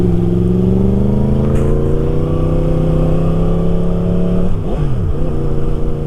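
A motorcycle rides along a road near a dam, its engine note loud and close, holding steady and then rising and falling in pitch as the rider shifts and changes speed toward the end.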